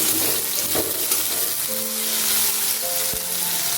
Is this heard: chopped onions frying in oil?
yes